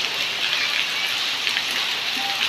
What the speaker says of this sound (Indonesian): Semoga hujan cepat mereda sehingga air bisa surut dan tidak menggenang di perumahan.